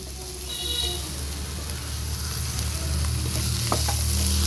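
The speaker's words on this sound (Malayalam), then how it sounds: "നമുക്ക് ഈ തക്കാളി ചേർത്ത് കൊടുക്കാം." Tomatoes added to a chicken curry masala frying in a pan, a steady soft sizzle with light stirring scrapes near the end.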